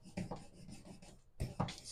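Paper being scored with a scoring tool for a handmade mini album gives short, faint scraping and rubbing strokes, several quick passes close by, with a brief pause before two sharper final strokes.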